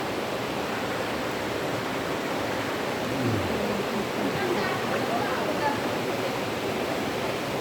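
River water rushes over rocks at Debotakhum in Bandarban as a steady, dense, full-bodied roar with no breaks, close and fairly loud.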